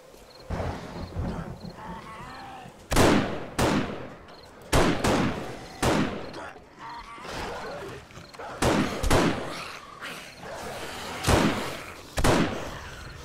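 Base turrets in the 7 Days to Die game fire a string of sharp, loud shots at irregular intervals, each blast a percussive crack with a short tail, over a low background of game noise.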